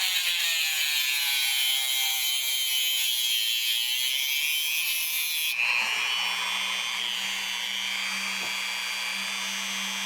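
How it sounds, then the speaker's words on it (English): A cutoff wheel on a Dremel rotary tool cutting a wheel part, a loud, close, high-pitched continuous whine that changes pitch partway through and settles into a steadier grinding tone, with no talk. "So what I use is a cutoff wheel on my Dremel tool."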